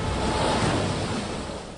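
Ocean waves surge and roar at the seashore in an animated scene, a continuous broad wash of surf and wind with no talking.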